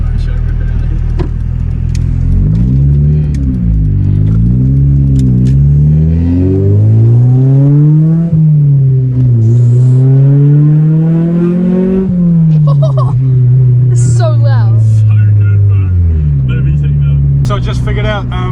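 A Honda Civic EF with a B16 engine accelerates hard, its loud revs sweeping up and down through several gear changes with a brief lift near the end, all from inside the cabin.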